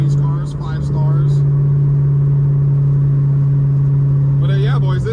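Shelby GT500 engine held at a strong, steady drone under hard acceleration, a loud, close low hum with people talking over it at the start and end.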